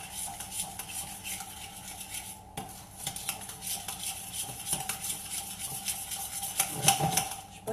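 Butter, sugar and egg being mixed for cookie dough in a bowl, with a steady scraping, clinking whisk or spoon against the bowl that runs continuously and close up, with no talking.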